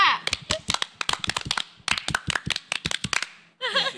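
A group performs the Indonesian scout clap, tepuk pramuka, on a high-school film set: a rapid rhythmic run of sharp, close hand claps in patterned bursts with brief pauses, ending in excited voices.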